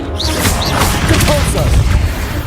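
Confringo and Descendo spells cast in Hogwarts Legacy, producing loud, continuous magical booms and crashing impacts with whooshing, pitch-sweeping effects, all layered in a dense, constant din of combat.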